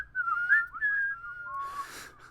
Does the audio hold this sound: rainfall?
no